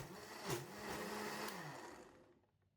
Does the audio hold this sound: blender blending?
yes